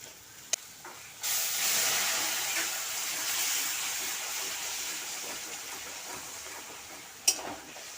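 Hot water poured into masala frying in oil in a pan for a vegetarian omelette curry bursts into a loud, steady hiss of steam that lasts several seconds, with a light clink at the start and another near the end.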